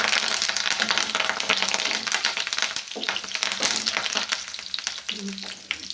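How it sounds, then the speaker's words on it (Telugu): Curry leaves and two dried red chillies crackle and spit in hot oil for an egg and tomato fry, a dense, loud, continuous sizzle with sharp popping bursts throughout. "కరివేపాకు చిటపటమన్నాక"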